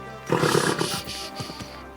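A horse in Kingdom Come: Deliverance II gives a loud, close snorting whinny that builds and fades over about a second, followed by a few softer breathy sounds.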